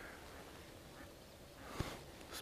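Wild ducks quack faintly and from a distance across a peat quarry during an August hunt, with one short thump partway through and quiet open air around them.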